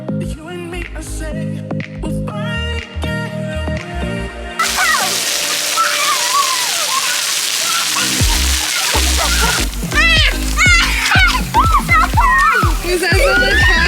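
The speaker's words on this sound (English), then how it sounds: "this splash park was the best place to go when you wanted to cool down" Water splashing at an outdoor splash park in hot Florida weather: loud sloshing and spraying water fills most of the clip, with children's voices and chatter over and around it.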